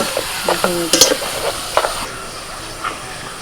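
Papad frying in oil in a wok gives a close, bubbling sizzle with a few sharp crackles, and a voice talks briefly near the start.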